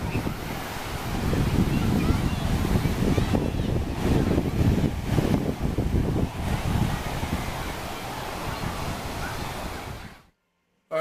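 Ocean surf at Bel Mar beach on a packed day rolls and washes continuously under heavy wind buffeting on the microphone, then cuts off abruptly near the end.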